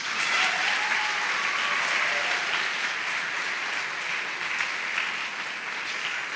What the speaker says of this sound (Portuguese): Poderia ter aplaudido.